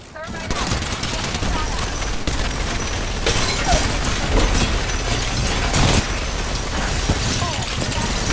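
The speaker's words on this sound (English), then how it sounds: "We both pushed in with LMGs, just Ramboing it." Rapid sustained LMG fire in the video game Apex Legends, dense continuous bursts of shots at close range with louder stretches, filling the whole clip.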